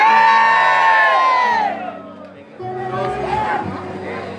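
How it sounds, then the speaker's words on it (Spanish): A Pentecostal church congregation at a revival in San Miguel, El Salvador, lets out a loud, sustained collective war cry of shouting and whooping, which fades into lively crowd chatter. "tome su asiento con un grito de guerra"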